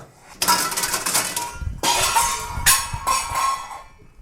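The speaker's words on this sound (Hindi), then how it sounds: "अबे बर्तन बाजे जाते क्या?" Metal pots and utensils clang and rattle in a loud, close jumble of crashes, with three separate bursts of clattering one after another.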